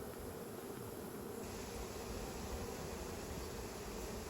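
Honey bees cluster at the entrance of a hive built with wild honeycomb taken from a house wall, giving a faint, steady buzzing hum with no voices.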